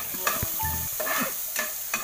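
Sinanglaw cooking in a pan sizzles steadily while a utensil stirs and scrapes in short, uneven strokes close by.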